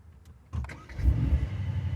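A short click of a start-stop button, then a Mercedes-Maybach Mythos engine cranks and catches, settling into a low, close rumble as it starts idling.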